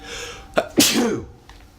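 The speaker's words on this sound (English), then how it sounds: "And I'm about to sneeze." A single sharp sneeze with a quick intake of breath before it, close and loud, trailing off into quiet.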